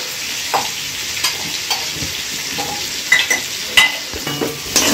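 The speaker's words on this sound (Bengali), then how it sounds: "আমি একটু নেড়ে নেব।" Garam masala being stirred into a pot of mutton biryani with meat, egg and potato, a spoon scraping in irregular strokes over a steady low sizzle, close and fairly loud with no talking.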